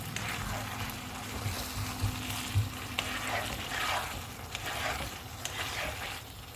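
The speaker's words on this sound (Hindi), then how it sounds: "अब हम इसमें सब्ज़ प्याज डालेंगे और इनको मिक्स कर देंगे।" Chilli chicken sizzles steadily in a hot pan as green onions are stirred in, with a continuous close frying hiss and soft scraping from the stirring.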